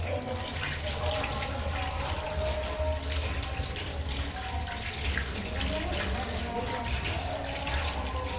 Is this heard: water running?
yes